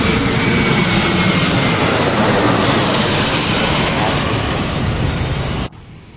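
A jet airliner roars loudly and steadily overhead at Koteshwor near Tribhuvan International Airport in Kathmandu, a broad continuous rumble that cuts off abruptly near the end.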